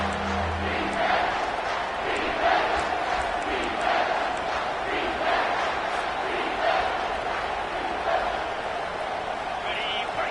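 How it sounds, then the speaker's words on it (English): A football stadium crowd roars during a college game between Kansas State and Utah, a sustained, swelling din of many voices with a commentator talking over it. "this crowd will blow out a vocal cord to help this defense"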